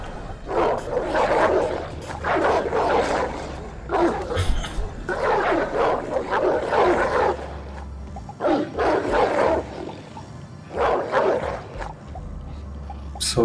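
A creature barks in Oddworld Soulstorm, about six rough, growling bursts of barking at fairly even intervals, loud and close, with no talk.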